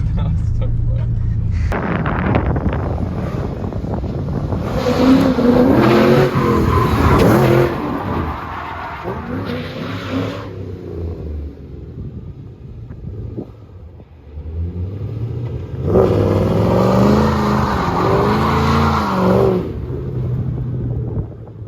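A car engine revs hard while its bald, tread-worn tires lose grip and spin out, giving loud, surging roars that rise and fall in two big bursts, with a voice talking over the engine noise at times.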